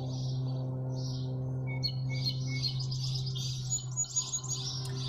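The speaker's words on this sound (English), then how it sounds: "there's a lot of noise here with the birds chirping and the weed whackers going" Small birds chirp and tweet repeatedly outdoors at a yoga class, the calls scattered and fairly close, over a steady low mechanical drone from weed whackers running nearby.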